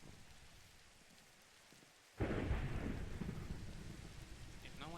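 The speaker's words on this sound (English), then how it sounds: "Oh, yeah, thunder." Heavy rain begins suddenly with a sharp crack of thunder in a Minecraft survival world, then a dense, loud downpour and rumble continue steadily, with a few faint in-game chimes near the end.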